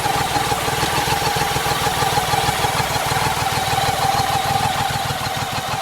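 BMW K75 motorcycle's engine runs steadily in gear after a clutch cable replacement, a continuous, even mechanical drone with a fine rapid pulse, close and loud throughout with no talk.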